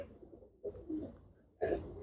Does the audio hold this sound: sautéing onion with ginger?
no